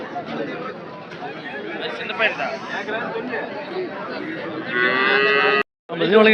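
Cattle low and moo amid a busy crowd of chattering voices at a cattle market in Anthiyur, with one loud drawn-out moo near the end.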